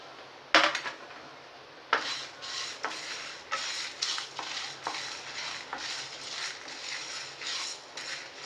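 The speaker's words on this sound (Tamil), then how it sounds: "வத்தல், மிளகு, ஜீரகம் இதெல்லாம் போட்டு எண்ணெய் விடலை, சும்மா வெறும் வடைச்சட்டியில் வறுத்து எடுத்துக்குவோம்." Dry chillies, black pepper and cumin dry-roasted in an oil-free kadai, stirred with a ladle that scrapes and taps the pan in a steady rhythm of close, crisp strokes with rattling spices, no voices.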